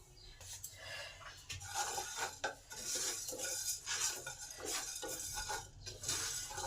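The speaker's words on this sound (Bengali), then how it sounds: "প্যান গরম হলে প্রথমে ধনে, জিরে আর গোলমরিচ ভেজে নেব" Coriander, cumin and black pepper dry roasting in a hot pan, stirred with a spoon that scrapes and clinks against the metal in an uneven rhythm, close but quiet, with the dry seeds rustling.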